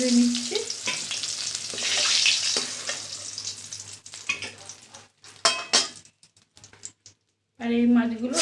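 Rohu fish frying in oil in a home kitchen, a steady sizzle with stirring and utensil clinks, broken by quieter gaps and a voice talking partway through.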